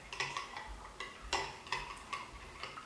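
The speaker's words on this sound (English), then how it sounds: "so you just mix this together" Vegan sour cream being stirred in a bowl, a spoon clicking and tapping against the sides in quick, irregular strokes, close and fairly quiet with no talking.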